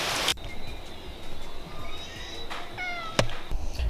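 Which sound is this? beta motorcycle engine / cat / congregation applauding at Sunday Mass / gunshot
cat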